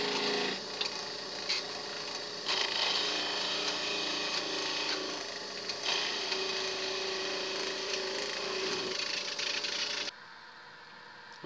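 A homemade fishing float for vertical jigging is trimmed and shaped with a power tool, giving a continuous grinding, whirring abrasion with slight shifts in pitch before it cuts off abruptly near the end, close and steady with no speech.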